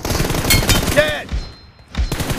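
M4 rifle fire in the BGMI battle royale game crackles in loud, rapid bursts, drops into a short lull, then a fresh burst erupts at the very end.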